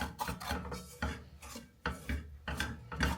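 Bajra millet flour being mixed by hand in a bowl for stuffing, a rough rasping, rubbing sound in repeated close strokes with brief pauses, no talking.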